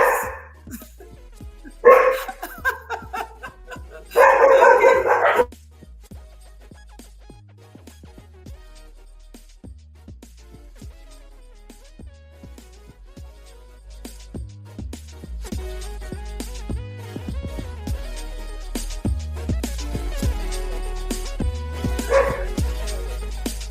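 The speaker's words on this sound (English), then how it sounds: "I have a barking dog in here" A dog barks in short bursts, loud and close, then quiets while a steady background of other sound continues.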